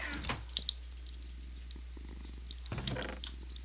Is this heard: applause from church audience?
no